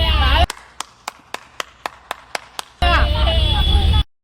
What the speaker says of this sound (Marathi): वन साइड नानीसाठी टाळ्या रे भाई.